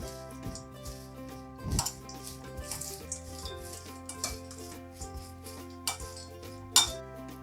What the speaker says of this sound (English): Mix it gently using a tongs.